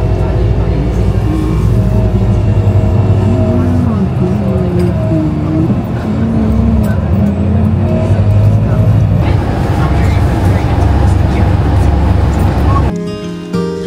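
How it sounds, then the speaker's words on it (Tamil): A bus pulls up on the Isle of Skye to collect a passenger. A loud, close engine rumble with shifting tonal whine holds steady for most of the time, and voices sound around it before the noise drops off abruptly near the end. "ரைட் என்னை ஏற்றி கொண்டு போகிறதுக்கு பஸ் வருது"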